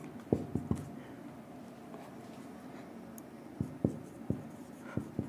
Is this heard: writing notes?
yes